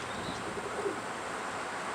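A young pigeon coos faintly in a dovecote, with soft, low calls barely rising above a steady hiss of outdoor background noise.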